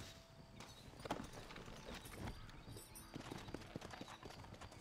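A horse's hooves clop at a walking pace in the video game Red Dead Redemption, a quiet, irregular series of thuds over faint background ambience.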